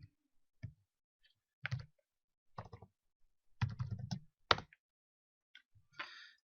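Keystrokes on a computer keyboard while typing terminal commands, sparse clicks and short bursts of tapping with quiet gaps between, close and clear in a silent room.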